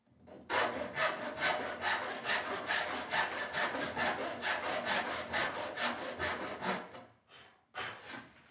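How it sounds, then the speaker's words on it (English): Hand saw cutting a notch in wood for transom posts on a boat build, a steady rhythmic series of close rasping strokes that stops briefly near the end and restarts, with no talk. "We'll cut the notch there"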